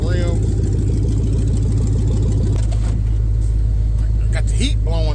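The LS-swapped engine of a 2-door Chevrolet Tahoe idles loud and close in a snowstorm, a steady low rumble while someone talks over it.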